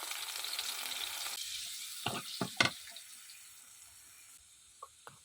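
Onion paste fries in a little soybean oil in a kadai, with a soft sizzle for the first second or so. A few scattered, faint clinks and scrapes follow in a quiet room.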